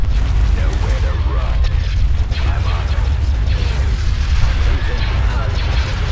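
Heavy weapons fire from a battle station striking shields in the Star Wars strategy game Empire at War, a dense, loud, continuous rumbling barrage of booms and blasts sustained throughout.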